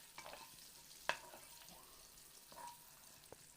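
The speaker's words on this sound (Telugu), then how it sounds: "కొంచెం బ్రౌన్ కలర్లో వచ్చేదాకా అట్లానే వాటిని ఆయిల్లో వేంపాలి" Eggs frying in oil in a pan for an egg masala curry, a faint, steady low sizzle with a few soft clicks of stirring, no voices.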